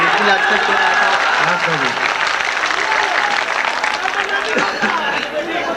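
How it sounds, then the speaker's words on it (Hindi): Steady, dense applause from a crowd at a mushaira poetry gathering fills the whole stretch, loud and sustained with no pauses, a few voices faintly mixed in. "जोरदार तालियां बजाइए"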